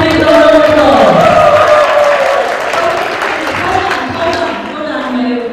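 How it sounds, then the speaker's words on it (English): A wedding audience applauds in a dense, continuous wash of clapping that gradually fades, with voices or tonal sound carrying on over it. "Give them a big round of applause."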